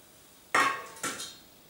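A copper cooking pot is picked up and handled in a home kitchen, giving two sharp metallic clanks a half second apart, each ringing briefly before fading, with no talk.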